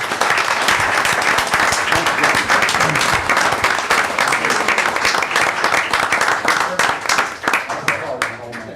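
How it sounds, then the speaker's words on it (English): Loud, sustained applause from an audience at a town council meeting, dense clapping filling the room for several seconds and thinning slightly near the end. "Let's give them a big round of applause"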